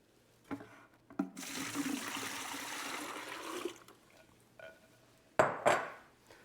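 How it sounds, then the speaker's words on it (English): Eight cups of water poured into a plastic briner bucket for pork belly brine, a steady splashing rush of a few seconds with soft clinks and handling knocks before and after, close and alone. "So into my briner bucket goes my 8 cups of water."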